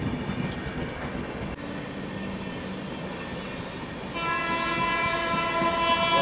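A train departs on the adjacent track at night at a busy Indian railway stretch: a steady rumble with tonal humming swells louder and richer partway through, close and continuous.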